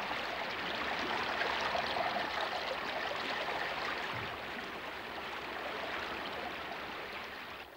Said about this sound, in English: All this meltwater has to go somewhere.